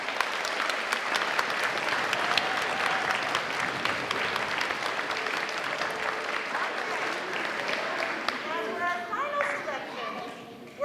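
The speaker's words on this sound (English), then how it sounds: "I want to give all of these kids a round of applause" Steady applause from a crowd at an elementary school orchestra recital, continuing for several seconds, with a few voices and cheers rising near the end.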